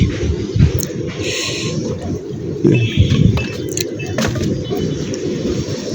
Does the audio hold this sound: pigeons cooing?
yes